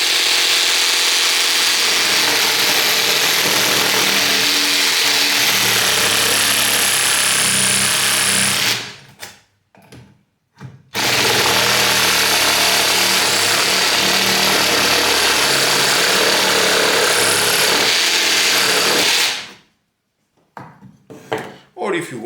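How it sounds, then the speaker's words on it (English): A Parkside PASA 20 Li B2 cordless garden saw rasps loudly and continuously through wood in two long cutting runs, each stopping abruptly, with short quiet gaps and handling noise between. "It is like a cordless jigsaw or a saber saw."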